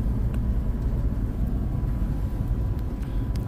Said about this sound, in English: It sounds like a garbage truck out there